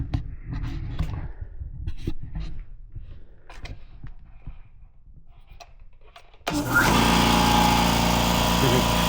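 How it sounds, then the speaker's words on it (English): A Fortress ultra quiet air compressor starts up abruptly after a stretch of quiet talk, then runs as a steady, fairly loud hum with a broad hiss, heard from about arm's length. "let's start with firing up the Fortress air compressor here and see how it sounds"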